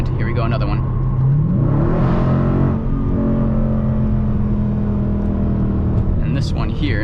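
A 2020 Dodge Challenger Scat Pack Widebody with a shop-fabricated H-pipe exhaust revs up once in a loud swelling roar, then settles into a steady deep idle rumble, with a voice talking over it.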